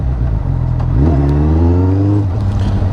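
Suzuki Bandit 650 four-cylinder motorcycle with an MIV exhaust, sport air filter and de-baffled silencer, idling then revving up steadily, a loud, close, continuous engine note rising in pitch.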